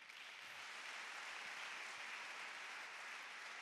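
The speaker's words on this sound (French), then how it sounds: "acclamons pour les témoignages" A church congregation breaks into steady, dense applause for the testimonies, a continuous wash of many hands clapping that holds at even strength before cutting off abruptly.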